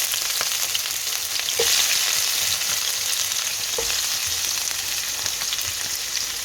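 Cinnamon and cardamom fry with onion and coconut in hot oil, a steady close sizzle with occasional stirring scrapes and taps, no talking.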